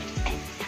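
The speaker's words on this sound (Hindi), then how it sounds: "गरम होना चाहिए तेल हमारी पूरी तलने के लिए" Puris dropping into hot oil give a brief burst of sizzling and bubbling frying, loud and close, with no talk over it.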